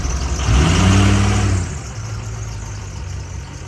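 A Ford 6.0 diesel pickup pulls away to park, its engine rising briefly to a loud revving note before settling back to a lower, steadier drone.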